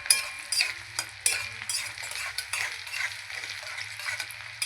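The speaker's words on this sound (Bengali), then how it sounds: "পেঁয়াজটাকে লাল লাল করে ভাজতে হবে।" Sliced onions frying in oil with cumin and bay leaf, a close crackling sizzle broken by repeated scraping stirs of a spatula against the pan.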